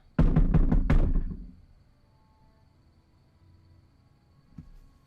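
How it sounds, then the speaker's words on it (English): Four firm knocks on a wooden tavern door, close and loud in a quick run, followed by near silence with a faint low thud near the end. "And then you hear a knock at the door."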